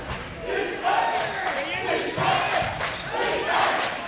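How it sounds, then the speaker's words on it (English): An Eagles home crowd roars and cheers at a high school basketball game, the noise swelling in repeated waves while an announcer talks over it. "Eagle crowd getting into things."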